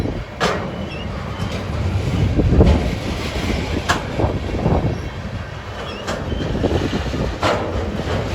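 A CSX freight train rolls past outdoors in New Jersey, its broad low rumble steady and continuous with occasional sharper clanks and wheel knocks scattered across the passage.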